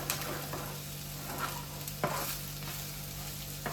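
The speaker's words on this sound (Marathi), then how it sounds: "आता जो भुगा आहे ना आपण ज्या भाकरींचा केलेला तो सुद्धा यामध्ये टाकून घेऊया आणि व्यवस्थित इथे परतून घेऊया." Masala with crumbled leftover bhakri is stir-fried in a pan, giving a loud, continuous close sizzle with scraping stirs and a couple of sharper clacks of the spatula; no one speaks.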